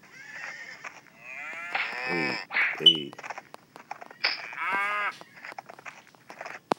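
Cow in the game SurvivalCraft lowing in a couple of long, drawn-out moos, close and fairly loud, with a person briefly calling out between them.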